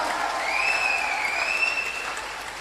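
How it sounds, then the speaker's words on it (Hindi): Loud, sustained applause from an audience at a DXN India event, a dense steady wash of clapping hands with a high whistle-like tone gliding over it, holding strong before easing slightly at the end. "जोरदार ताली है, जोरदार ताली"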